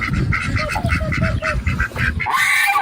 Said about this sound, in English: I love geese and ducks